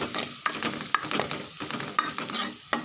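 Masala tipped onto softened onions and stirred in a pan for a sardine fish curry, with uneven spatula scrapes and clatters over a continuous close sizzle, no voices.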